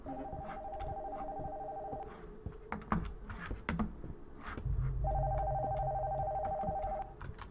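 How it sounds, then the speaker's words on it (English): A telephone in the horror video game Nocturnal Visit rings in two long electronic bursts, with tapping and clicks between them and a low hum under the second ring. "The phone from upstairs is ringing."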